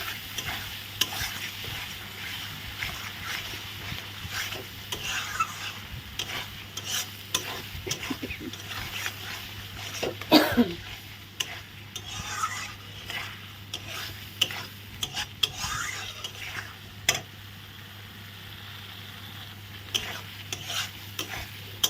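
Fried potatoes are sautéed with masala in a pan, a long steady sizzle under repeated scraping and stirring strokes of a spatula, with occasional louder clanks against the pan and no speech.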